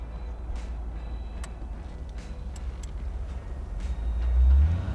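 Classic car on a test drive, a steady low engine and road rumble from inside the cabin with faint ticks, swelling louder near the end.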